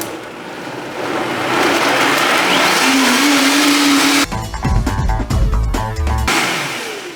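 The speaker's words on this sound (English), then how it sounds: "turn this on and crank it up to high" Vitamix blender running on high: a loud, steady motor whine ramping up, then a rough, churning roar as the contents catch, close and continuous before trailing off.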